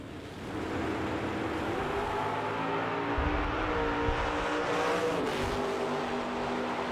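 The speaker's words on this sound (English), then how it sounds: "You can hear the drivers working the throttle" Street drag racing cars at the 2020 US Street Nationals, their engines revving and roaring as drivers work the throttle, a steady, fairly faint rumble heard from a distance with a brief swell partway through.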